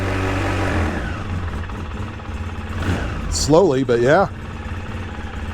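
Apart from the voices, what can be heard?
Polaris Sportsman 700 ATV engine running and idling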